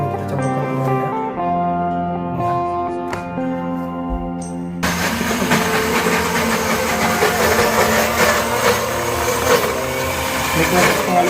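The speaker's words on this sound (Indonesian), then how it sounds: "Proses blender kita satukan ini, kita blender ya." A blender grinding a corn-based fishing bait mixture, starting after a stretch of quieter tonal sound and then running loud and continuous to the end as a dense whirring roar.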